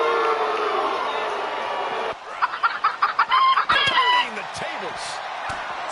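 Chickens cluck and a rooster crows in a short, choppy run of calls that break through a steady noisy background.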